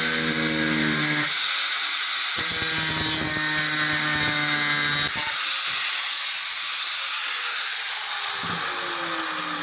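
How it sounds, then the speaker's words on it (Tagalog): An angle grinder cuts through PVC pipe while a trap is being built, its motor giving a loud, steady whine. The pitch shifts as the blade bites and frees, with a brief lull partway through. No one speaks. "Ngayon idol, grinder na lang gamitin natin para mas mabilis kaysa sa lagari."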